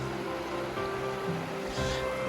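The Virgin River flows through the icy, bouldery Narrows in winter as a steady, broad rushing wash of water, close and continuous with no talk.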